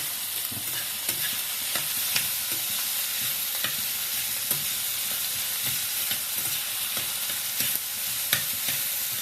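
Tomato and onion sautéing in a pan for a Maharashtrian sandgyachi bhaji, a steady close sizzle with repeated stirring scrapes and clinks throughout, no voices.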